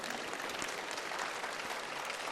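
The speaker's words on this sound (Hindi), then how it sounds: "जोरदार तालियां बजा दो भाई इस बालक के लिए" A seated audience at a yoga and healing gathering led by Swami Ramdev gives a loud, dense round of applause for a boy, a continuous wash of many hands clapping with no voices over it.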